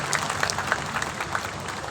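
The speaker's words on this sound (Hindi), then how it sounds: "एक बार आप ताली बजाओ" Audience applause at a large religious conference gathering: a crowd clapping in a steady, dense patter of many hands, moderately loud and continuous through the short moment.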